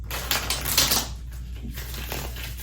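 A deck of tarot cards riffled in a quick, close shuffle, a fast papery flutter of clicking cards that rises and then fades over a low background hum.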